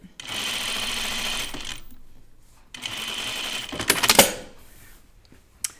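A sewing machine understitches a chiffon dress in two steady whirring runs of stitching separated by a short pause, followed by a brief rattling clatter, loud and close.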